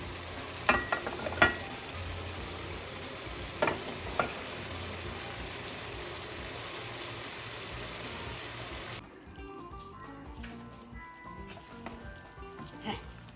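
Spice paste frying and being stirred in hot oil in a pan, a steady close sizzle with occasional scrapes, which abruptly drops to a quieter bubbling near the end.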